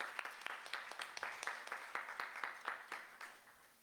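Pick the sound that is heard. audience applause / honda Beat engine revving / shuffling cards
audience applause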